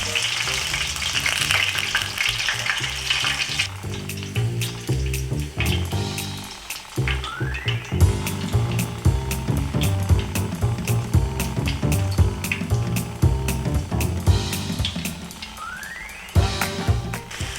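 Shrimp for bang bang shrimp fry in hot oil, a loud, continuous bubbling sizzle that persists throughout with shifting intensity and a few sharper bursts, no one speaking.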